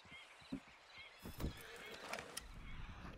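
A horse in the video game Red Dead Redemption 2 Online gives a whinny amid soft hoof clip-clops and game ambience, fairly quiet and close, with no talk over it.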